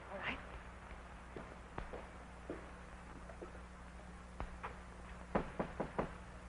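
Knuckles rap on a wooden door in an old 1930s house, a few scattered knocks early on, then a quicker cluster of four or five toward the end, all fairly quiet against a low background hum.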